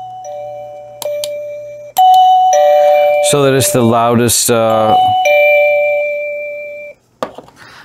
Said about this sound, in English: each time I press it, that's going to change the volume setting